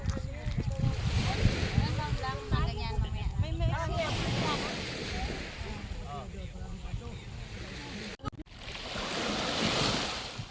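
Sea waves wash up near a beach campfire at night in Lobo, Batangas, a steady roar of surf and wind under lively voices and laughter that drops out briefly before the waves swell again.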